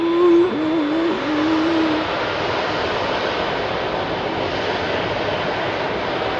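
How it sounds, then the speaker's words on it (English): An Embraer E2 airliner departs Heathrow at night with a loud, steady jet roar. A brief whining tone rises over it at the start, and the noise holds unbroken throughout. "That's an Embraer E2."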